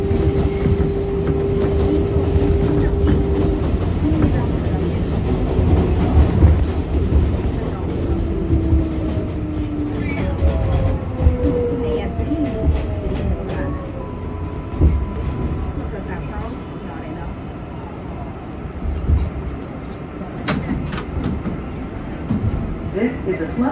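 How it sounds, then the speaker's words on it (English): An R188 subway train on the 7 line express rumbles along steadily and loudly, its wheels squealing in long metallic whines against the rails throughout. "This is a Flushing Main Street bound 7 local train."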